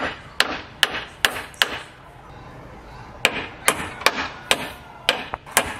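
Nails go into wooden planks for a chicken cage in a run of sharp hammer blows, a quick burst, a pause and then another steady series of close, ringing strikes.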